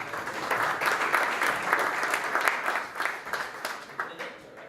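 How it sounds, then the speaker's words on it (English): Audience applause welcoming a startup team onto the stage at a healthcare and biotech startup competition, steady broadband clapping from a sizeable crowd that stays loud throughout. "please, big applause for Medicator on stage"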